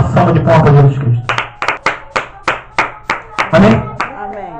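A church congregation claps for Jesus Christ after a voice finishes speaking, a steady run of about a dozen sharp, evenly spaced claps, close and loud.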